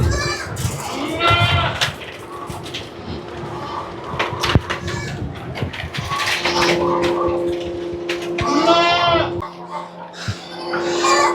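Goats bleating on a farm of about 500 goats, several loud wavering bleats close by, repeating through the clip amid people talking.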